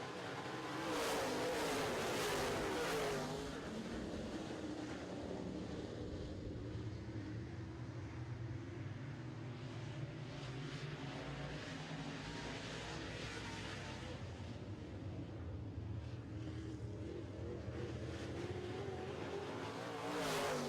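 Late model race cars roar around a speedway during a heat race, a loud continuous engine drone that swells and passes, with no talking.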